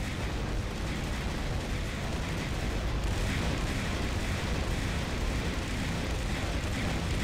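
Ship weapons in Jets N Guns Gold fire as a dense, continuous barrage, steady and loud throughout without letting up.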